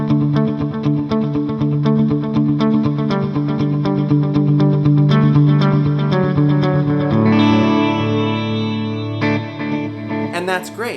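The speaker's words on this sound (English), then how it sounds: "Now with the reverb." Electric guitar run through delay and reverb on a Line 6 HX Stomp, sustained chords ringing with echoing repeats and a wash of reverb tail, played steadily and up close with no voices.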